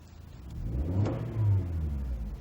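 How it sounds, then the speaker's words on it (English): A Lexus UX 200 F Sport engine revs in sport mode, a steady mid-pitched drone that swells twice in quick throttle blips, heard from inside the cabin with no talking. "So you guys want to hear how loud this motor is?"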